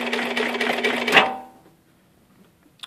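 A TW3 441S sewing machine running a very long stitch, with a fast rhythmic stitching clatter that ends in a sharp clunk, followed by near silence and one small click.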